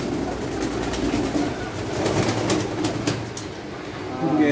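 Pigeons coo softly in a steady, low murmur that runs through a busy outdoor scene with faint background voices and general noise, the calls blending into the ambience rather than standing out clearly.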